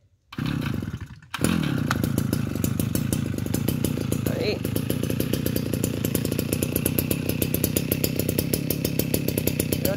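A small two-stroke Shindaiwa S35 chainsaw engine starts up and runs steadily with a fast, buzzing pulse, close by and loud, holding at a constant idle-to-mid throttle.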